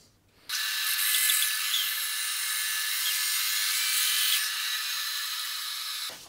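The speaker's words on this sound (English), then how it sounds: "So we're gonna cut up through on the bandsaw nice and gently down through." A bandsaw slices through a wooden bowl, cutting it in half with a steady, loud high-pitched whine and rasp that runs unbroken for several seconds before stopping.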